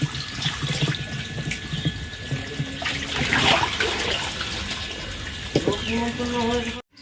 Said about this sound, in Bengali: মাংসটা এখন ধুয়ে নিচ্ছি পরিষ্কার করে